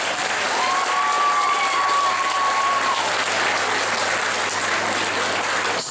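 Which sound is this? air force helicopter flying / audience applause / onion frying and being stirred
audience applause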